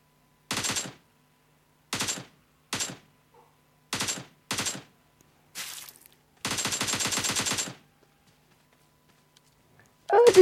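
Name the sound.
gunfire in a zombie video game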